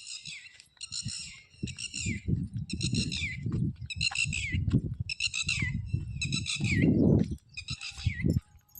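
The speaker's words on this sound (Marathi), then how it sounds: "बघा असं वातावरण आहे इकडं पक्ष्यांचा आवाज कसा येतो" Repeated bursts of high bird calls, about seven in a row at steady intervals, sounding fairly close over a low rumbling machine background near farm fields.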